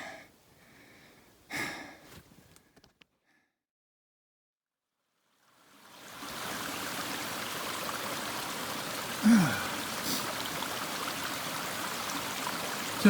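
A spring welling up out of the ground outdoors, producing a steady, close trickling and rushing of water that starts after a quiet pause and keeps going without a break.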